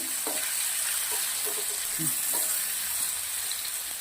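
Salted onions fry in a pan with a soft, continuous sizzle and a few light stirring clicks, faint and steady throughout.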